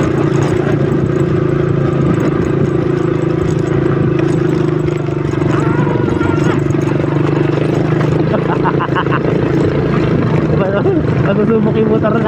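A motorcycle engine running steadily during a test on an 800 km Calabarzon road loop, a loud, constant droning hum close by, with voices talking over it.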